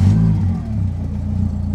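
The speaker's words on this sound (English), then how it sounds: "Let's take the car for a drive." A cheap project car with its engine warning light on, the engine droning and revving at close range as it pulls away, a low steady hum with a brief dip, no voices.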